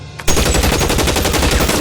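Rapid sustained gunfire in the video game L.A. Noire Remastered, a loud, dense burst of overlapping shots and rattling fire that starts suddenly and continues unbroken to the end.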